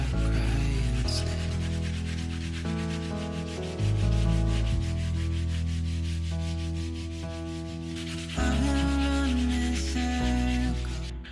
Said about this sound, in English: I'm just going to use a sanding pad to just apply some light distressing